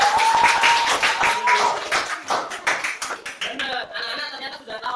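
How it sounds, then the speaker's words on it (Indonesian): Children in a classroom clapping together, a quick run of sharp claps that thins into scattered taps, mixed with young voices and an adult speaking. "Tepuk tangan lagi"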